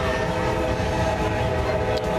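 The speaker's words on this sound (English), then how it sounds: "Here's a train too." A train rolls past slowly during a St. Patrick's Day food parade, a loud, continuous rumble with steady tonal horn-like hum close by, no talk heard.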